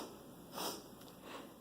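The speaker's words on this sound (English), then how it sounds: "we're going to sniff our nose" A child sniffs their nose during an action rhyme about body parts: a soft, breathy inhale near the middle of the clip, with a fainter second sniff after it, heard close and alone.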